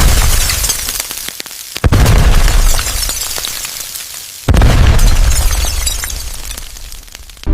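Explosions burst from a building fire where flames reached an ammonia line on a solar-panelled roof, two heavy booms with rumbling, crackling aftermath, loud and close, with no talking.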